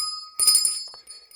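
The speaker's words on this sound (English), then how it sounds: "I will ring the bell." A bell is struck once with a bright metallic ring, its high tone hanging on and slowly fading over a faint steady background.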